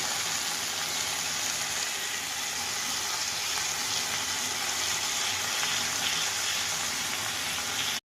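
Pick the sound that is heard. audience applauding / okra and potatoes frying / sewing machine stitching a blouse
okra and potatoes frying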